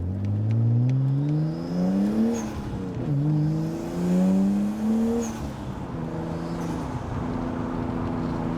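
A Nissan R34 Skyline fitted with an HKS Super SQV blow-off valve revs up and down on a test drive, its engine note climbing repeatedly, with brief airy valve whooshes between the pulls.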